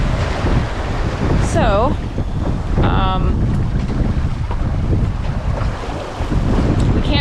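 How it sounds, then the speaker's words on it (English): Loud wind buffeting and the rush of steep, closely spaced breaking waves against a sailboat at sea, a constant roar with brief whistling tones above it and a single spoken word. "the waves right now are like how what we would describe as being very square and very close together and very steep"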